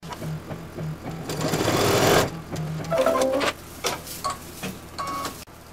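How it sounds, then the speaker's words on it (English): An embroidery machine stitches a placement line for raffia on a scarecrow design, producing rapid rhythmic needle clatter that rises and pauses in short bursts, close and fairly loud. "It's gonna stitch the placement line for the raffia on the other arm."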